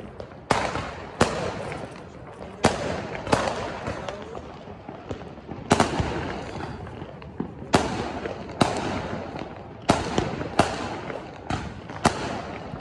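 A Diwali multi-shot firework cake, around 50 shots, going off outdoors: a steady series of sharp, loud bangs spaced roughly a second apart, each with a ringing tail, while faint voices murmur in the background.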